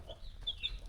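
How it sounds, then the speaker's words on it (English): Zambro chickens, an improved breed of Zambian village chicken, cluck and peep softly in a brief burst of thin high calls over a low background rumble. "here we have the Zambro chickens, which are Zambians improved breed of village chicken"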